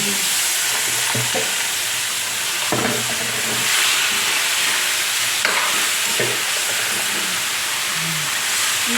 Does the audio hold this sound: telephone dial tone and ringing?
no